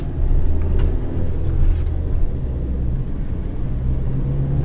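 A manual-transmission car eases away in first gear as the clutch is slowly let out, giving a steady low engine rumble close by with no talk over it.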